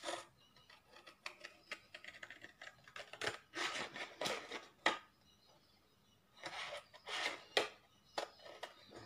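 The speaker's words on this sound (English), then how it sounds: "Might just cut that off." Scissors cut off a piece of paper: short crisp snips and rustling paper come in quick bursts, close and fairly quiet, separated by brief pauses.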